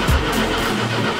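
A car engine runs out of gasoline, giving a short rough rumble with a low thump near the start before it fades unevenly, loud and close, with no voices over it.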